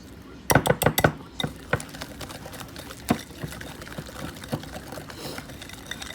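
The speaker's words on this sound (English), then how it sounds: "So I'm gonna whisk that really, really well." A wire whisk beating green bean ingredients in a bowl, with a burst of quick metallic clinks and taps early on, then sparse clatters and knocks against the bowl over faint kitchen background.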